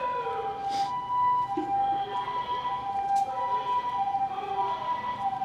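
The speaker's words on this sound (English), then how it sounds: "that ambulance actually came down the road that we were just on." An ambulance siren wails on a street in Itabashi, Tokyo, with a steady tone over traffic that holds moderately loud and does not fade much.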